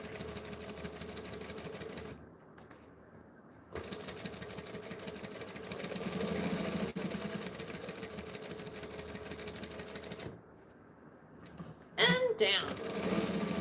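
A sewing machine stitches through thick towel fabric in steady whirring runs, pausing twice and then running slowly for backstitching, with someone talking over it.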